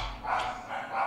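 Two pet dogs barking indoors, a short burst of yips and barks close by, with no talking over them.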